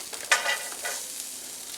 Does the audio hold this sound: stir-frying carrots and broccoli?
yes